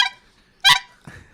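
Short nasal honks made by a human voice imitating geese, a few bursts with pauses between, close and fairly loud.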